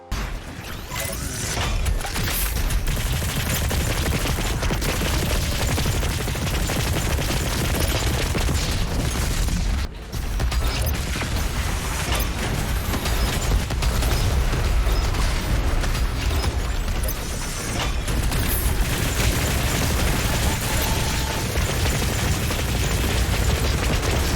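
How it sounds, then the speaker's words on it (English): DOOM Eternal's microwave beam and heavy cannon fire in a dense, loud barrage of mechanical crackling, booms and rattling, continuous for over twenty seconds with only a brief gap midway. "I like to use the microwave beam to quickly take their health down to nothing, and then a quick shot or two from the heavy cannon grants us the damage boost"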